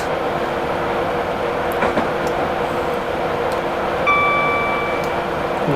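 A Class 91 electric locomotive runs in Train Simulator 2017 with a steady rolling rumble and hum, occasional clicks of the rails and a brief high tone near the end.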